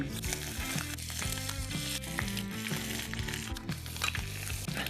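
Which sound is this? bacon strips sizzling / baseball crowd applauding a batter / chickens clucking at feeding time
bacon strips sizzling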